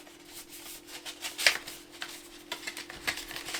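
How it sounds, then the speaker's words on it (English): Art cards slide and rub against each other as they are pushed back into a small pouch, a close, dry papery shuffle with a few sharper scrapes and soft taps. "It's going back inside the little pouch with the art cards"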